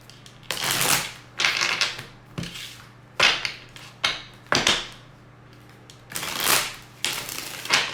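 Oracle cards being shuffled in a series of quick riffling bursts, about eight crisp rustles separated by short pauses, close up and without speech.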